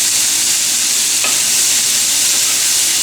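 Vegetables for a vegan stir-fry browning in a wok over high heat, producing a loud, even, unbroken sizzle close by, with a single faint clink of a utensil and no voices.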